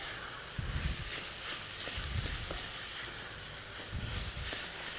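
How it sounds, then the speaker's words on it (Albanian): Minced meat and onion fry in a pan with a steady, soft sizzling hiss, punctuated by a few low thumps of stirring, moderately quiet and without talk. "Tani mishi bashkë me qepën do të skuqet pak"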